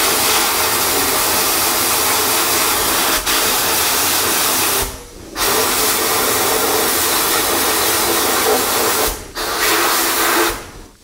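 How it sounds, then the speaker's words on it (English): A sandblaster blasts in loud, continuous bursts of harsh hissing air and grit, cutting out briefly twice before starting again. "Good way to try out the sandblaster."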